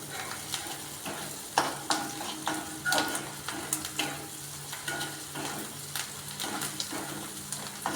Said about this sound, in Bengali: যতক্ষণ না পর্যন্ত পেঁয়াজটা লাল লাল করে ভাজা হবে